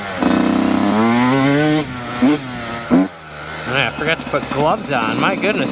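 A Yamaha YZ125 two-stroke dirt bike, kicked over cold without choke, revs loudly and buzzes up close, then settles to a rough idle as someone talks over it.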